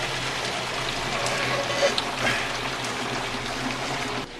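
Boiled escarole is poured into a colander in the sink, its cooking water rushing out in a steady loud gush that cuts off abruptly at the end.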